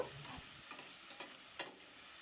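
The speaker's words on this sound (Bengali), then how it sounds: "অল্প জল দিয়ে মশলাটাকে আমি কষিয়ে নেব" Spice masala of turmeric, Kashmiri red chili powder, salt, tomato, ginger and garlic cooking down with a splash of water in a pan, giving a faint, steady sizzle broken by a few soft scrapes of stirring.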